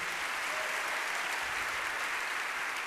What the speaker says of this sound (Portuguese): Olha aí que massa, aplauda aí mesmo